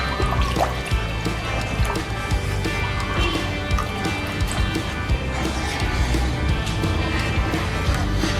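Water poured into a Nutrijell cendol mixture makes a steady, continuous liquid trickle and splash that runs throughout at close range, with no voices.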